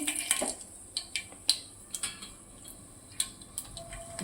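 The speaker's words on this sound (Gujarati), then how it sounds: "હવે આપણે એમાં રાઈ નાખીશું" Mustard seeds sputter and pop in hot oil in a pan while cooking bitter gourd curry, giving a scatter of sharp, close crackles and ticks at irregular intervals against a quiet background.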